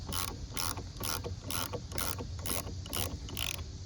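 A ratchet tightens a bearing puller while removing the center bearing on a 2004-09 Cadillac SRX RWD, giving eight evenly spaced, loud ratcheting clicks at a steady pace close by.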